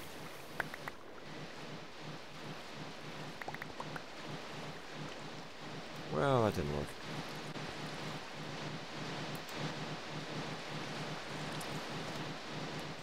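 Steady hiss of heavy rain with a low rumble of thunder swelling briefly in Minecraft, while someone speaks a short remark over it.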